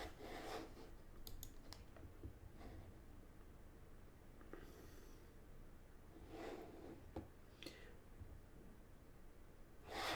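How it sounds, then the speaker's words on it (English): Soft, quick keystrokes on a computer keyboard while an email address is typed, a faint irregular clatter over a steady low room hum. "I'm typing my email there"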